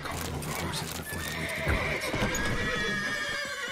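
Horse neighing and clip-clopping hooves from the Witcher 3: Wild Hunt video game, a steady loud game soundscape with the whinnies rising clearly above continuous hoofbeats, no talk over it.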